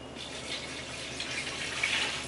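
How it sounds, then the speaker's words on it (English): Water poured into a pot of Cajun gumbo on the stove, a steady hissing, splashing stream lasting about two seconds, close and fairly quiet with no voices. "So we're just gonna add a little bit of water like so and mix that all around."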